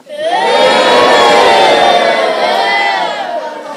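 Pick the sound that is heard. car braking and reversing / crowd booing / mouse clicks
crowd booing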